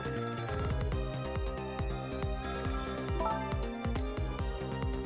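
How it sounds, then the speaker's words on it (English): A telephone rings in the video game Ghost Trick: Phantom Detective, a loud electronic ringtone playing a rapid, steady pattern of repeated tones for several seconds with no talk. "The phone is ringing."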